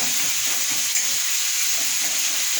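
Tomatoes frying in a pan, stirred with a spatula, giving a loud steady sizzling hiss with faint soft scraping beneath, continuous and close.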